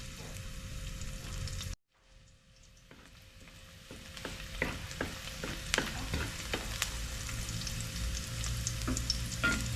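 Garlic and onion sauté in a pan for sotanghon guisado, starting with a soft sizzle that drops out, then returns as a gathering hiss punctuated by sharp spatula scrapes and taps.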